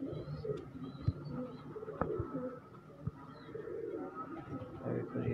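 Teddy pigeons in a breeding loft coo softly and repeatedly at close range, with faint occasional bumps and a quiet roomy background.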